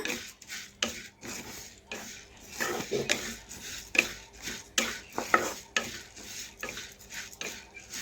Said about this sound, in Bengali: এই দেখুন এইভাবে নাড়তে হবে।